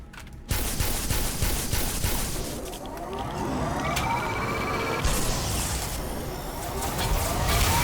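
Sustained weapon fire in the sci-fi shooter Black Mesa, a loud continuous roaring energy blast with a rising whine, beginning abruptly after a short quiet moment and holding steady throughout.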